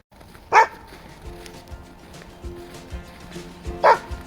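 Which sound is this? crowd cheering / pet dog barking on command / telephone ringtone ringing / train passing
pet dog barking on command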